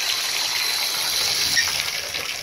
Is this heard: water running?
yes